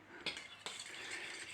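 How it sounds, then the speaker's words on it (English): Beaten eggs with a teaspoon of vanilla stirred in a bowl for a bread pudding: two light clinks of utensil on dish, then soft continuous scraping, all quite faint. "Give it a stir up."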